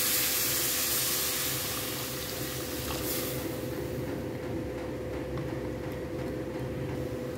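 Water pouring into a cooking pot of star fruit curry, a loud rushing splash at first that settles into a steady bubbling hiss.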